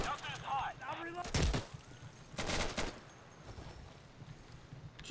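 Gunfire in the tactical shooter Insurgency crackles in two sharp bursts of shots, loud and close, with quieter gaps and voices talking between them.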